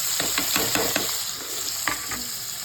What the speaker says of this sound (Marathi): आता हे सगळं फ्राय करून घेते